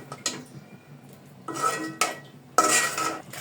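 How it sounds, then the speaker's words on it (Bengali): A spoon scrapes and knocks inside a pot as haleem mix is stirred into mutton, in short close bursts separated by brief pauses. "এখন আমি এই মিক্সটা সুন্দর করে মাংসের সঙ্গে নেড়ে নিব"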